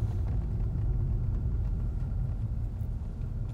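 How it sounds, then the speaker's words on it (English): A car rolls through a drive-through safari park, producing a steady, low interior road rumble and engine hum with no talking. "No, because the car's moving."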